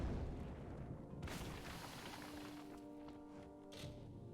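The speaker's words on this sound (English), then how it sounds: "Oh, let's use some fire magic here." A fire magic spell is cast in the Kingdoms of Amalur video game, giving a soft whooshing burst followed by a low, rumbling flare with a faint sustained tone; quiet overall, with no voices.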